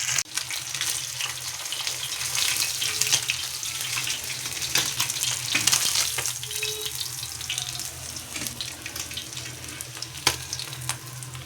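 Fish fries to a crisp in a pan, giving a broad, steady sizzling hiss that runs loud and close for the whole stretch with a few small pops and clicks.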